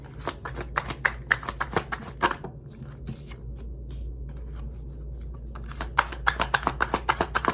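Tarot cards being shuffled in quick riffling bursts, then a quiet pause with soft handling, and then another fast run of shuffling flicks, close and crisp.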